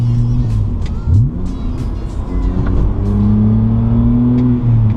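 A BMW E90 with a sprint booster in race mode accelerating, its engine rumbling loudly from inside the car with rising revs and gear changes heard as shifts in pitch.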